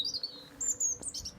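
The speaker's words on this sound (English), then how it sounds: "You can see the robin, but I hope you can hear him." A European robin sings in short, high, bright phrases and chirps, fairly close, over quiet outdoor background on a country walk in Colwall, Herefordshire.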